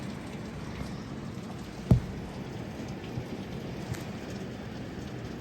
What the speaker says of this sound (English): Lots of rain all night.